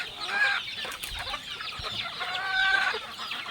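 A mother hen clucks repeatedly in short bursts amid other chicken calls, with a busy farmyard background and no talking.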